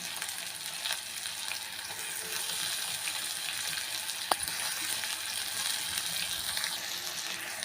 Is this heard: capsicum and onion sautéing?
yes